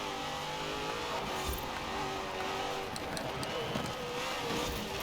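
A Hennessy car in Forza Horizon 4 produces a loud, steady engine drone with a sustained tonal whine throughout, rising slightly as it passes close by.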